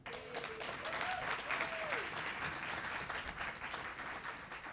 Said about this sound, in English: a round of applause in welcoming Chancellor Reyes to the platform